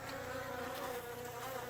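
Drone honeybees crowd a hive in November, their dense, steady buzzing filling the space continuously, close and unbroken with no other sounds.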